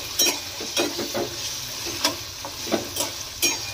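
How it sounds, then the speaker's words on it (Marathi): Mustard seeds and green peas sizzling and crackling in hot oil in a home kitchen pan, a steady frying hiss with sharp intermittent pops and spatters, close and moderately loud with no talk. "मोहरी टाकली की वाटाणे टाकली तेला तेला"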